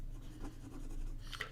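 A Sheaffer starter fountain pen with a converter and Waterman Intense Black ink scratches across Rhodia paper, a soft continuous nib rub with a slightly brighter stroke near the end, close and quiet.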